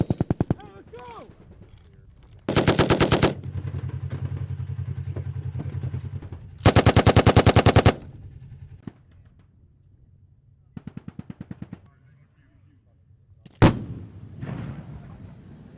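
Gunfire from a military airfield seizure exercise, with two long, loud bursts of rapid automatic fire, shorter trailing volleys, and a single sharp report near the end, over steady engine rumble and shouted voices.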